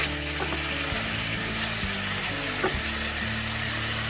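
Capers and broccoli fry in a hot pan with a steady, close sizzle and crackle, and a few soft knocks of stirring come through. No one speaks.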